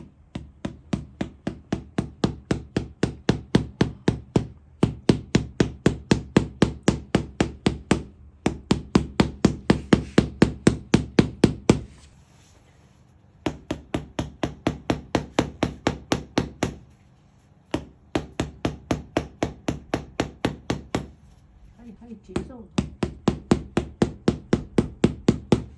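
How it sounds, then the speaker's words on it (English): Steady rapid tapping of an ink rubbing being made over a stone inscription at the Great Wall, dull wooden knocks in fast even bursts separated by short pauses, close and fairly quiet with no talk. "When he has deemed the conditions to be perfect, he begins the rubbing."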